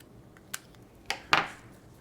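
Scissors cut the last piece of a paper rosette, three quiet sharp snips spaced apart in a hushed room, the final one slightly longer.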